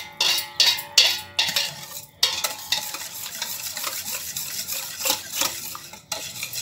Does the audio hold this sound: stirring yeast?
yes